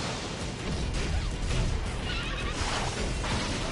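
A horse neighs in the action game Stranger of Paradise: Final Fantasy Origin, a loud whinny running through a dense, noisy game mix of clashes and effects.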